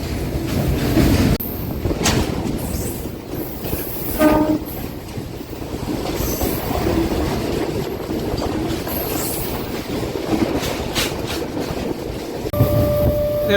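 A long goods train rolls past near Vijayawada, a loud, steady rumble and clatter of wagons and wheels lasting throughout, with a brief horn-like tone near the end.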